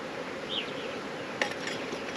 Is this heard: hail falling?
no